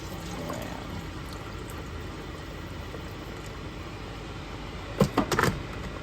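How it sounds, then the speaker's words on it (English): Water is poured into a pot of quinoa with pigeon peas and coconut milk, a short splashing burst near the end after a quiet stretch of background hum. "you can add another cup of water so the quinoa can cook"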